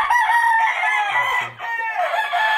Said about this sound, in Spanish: Ya son gallos como los de Espolón, son gallos.